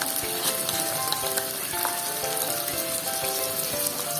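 Pure Foods canned corned beef frying in a pan, a steady close sizzle and crackle of fat with faint scraping stirs throughout, no voices.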